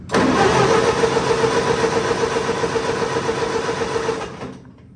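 A 1947 Cockshutt C30 tractor engine cranks for about four seconds, a loud, steady churning drone right up close that cuts off abruptly without catching.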